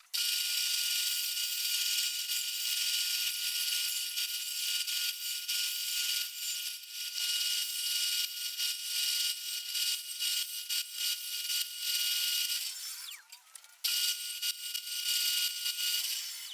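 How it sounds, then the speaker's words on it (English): A bandsaw cuts wood for a birdhouse, a continuous harsh, high buzzing rasp that holds steady for many seconds, briefly dropping away and then resuming near the end, with no talking. "So let's go to the bandsaw,"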